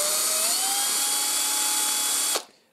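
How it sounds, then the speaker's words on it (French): An electric drill with a 4 mm bit whines steadily as it bores into a die-cast Majorette Chevrolet El Camino toy car, its pitch rising slightly before cutting off abruptly near the end. "On va commencer avec la perceuse."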